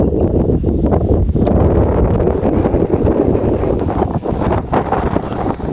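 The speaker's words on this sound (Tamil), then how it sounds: "சரியான காற்றடிக்குது. அந்த காற்று சவுண்ட் இறைச்சல் எல்லாம்" Strong wind on the coast beside fishing areas and open fields roars steadily into the microphone, a loud continuous buffeting rumble with gusty flutters and no voices.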